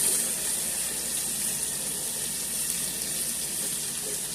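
Tap water running steadily into a kitchen sink during washing up, a continuous close hiss without pauses.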